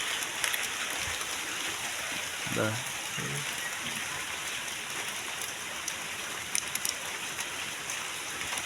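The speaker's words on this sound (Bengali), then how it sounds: "বৃষ্টি জোরে পড়তেছে তো ভাই।" Heavy rain falls steadily on a fish farm, a dense, even hiss throughout with a brief spoken exclamation.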